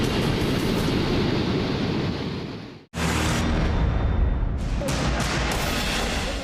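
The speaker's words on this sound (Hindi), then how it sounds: "लहरों का शोर इस कदर है कि किसी को भी डरा सकता है।" The flooded Neugal stream in Palampur roars with a loud, continuous rushing of churning water and waves, broken by one brief cut before the turbulent roar resumes just as strongly.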